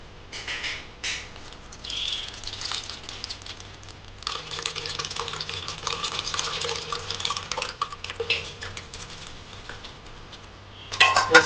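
Tamarind fish curry masala of chilli powder, turmeric, salt and tamarind water being mixed by hand in a bowl for Nellore chapala pulusu, giving soft continuous squelching and patting with occasional clinks of a dish.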